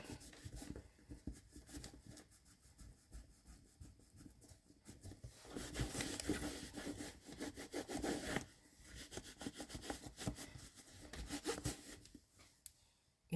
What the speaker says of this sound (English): So I just want to keep wiping it. Get off all the surface dirt.